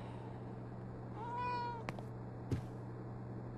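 A cat in the Life is Strange: True Colors video game gives a single clear, rising-and-falling meow, followed by a couple of soft clicks over a low steady hum.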